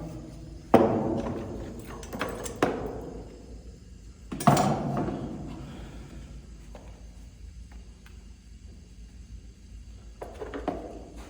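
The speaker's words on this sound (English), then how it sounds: "Two-pound hammer." A few heavy metallic strikes of a two-pound hammer on a chisel ring out close by while replacing cast iron, two sharp blows early and another midway, each decaying slowly, with quiet handling noise between.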